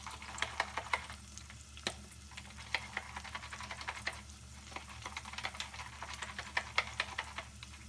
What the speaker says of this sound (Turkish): 3 kaşık kadar kavrulmuş unu ekliyorum. Ve çırpıyorum.